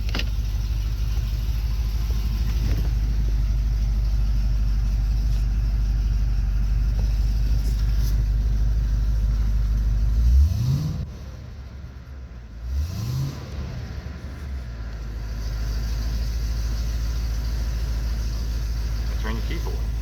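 2010 Cadillac CTS-V with supercharged V8 at 15 psi, LT headers, X pipe, stock mufflers and E85 fuel, idling on its first cold start with a deep steady rumble, two brief blips midway, then settling back.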